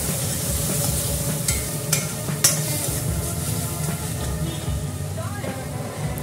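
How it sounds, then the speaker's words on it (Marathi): Ginger-garlic paste with a little tomato sautéing in hot oil for pav bhaji, a continuous close sizzle and frying hiss with a few sharp clinks of a spoon against the pan. "तर आता चांगलं परतवून घ्यायचं आपल्याला तेलामध्ये।"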